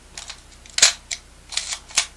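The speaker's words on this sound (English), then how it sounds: "You wind, click the shutter," Nikon FM2 film camera being operated: several sharp mechanical clicks from the film advance and shutter, close and crisp, spaced irregularly over a couple of seconds with quiet between them.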